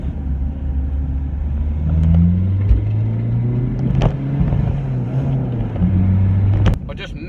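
A remapped VAG PD130 diesel hatchback accelerates hard from inside the cabin, a loud droning engine note climbing in pitch, with a gear change and brief rev flare as a shift is missed; someone talks over it.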